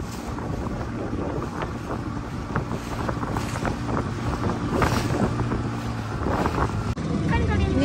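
Strong wind buffets the microphone continuously aboard a small boat at sea near Barelang bridge, with engine rumble and water underneath and people talking over it.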